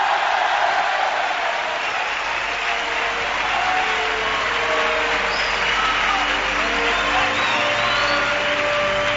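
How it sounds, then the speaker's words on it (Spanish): Theatre audience at Teatro Falla in Cádiz applauding, a dense, sustained wash of clapping with scattered whoops and cheers, loud and continuous throughout. "El teatro se va a caer con estos aplausos"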